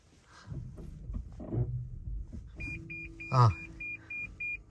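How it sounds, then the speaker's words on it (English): The front parking sensor of a Lexus CT200h hatchback chimes in a run of short, evenly spaced high beeps inside the cabin as the car creeps toward a garage. A low engine murmur and faint movement sounds sit underneath. "the front parking sensors have come up and it's saying I'm really close to that garage"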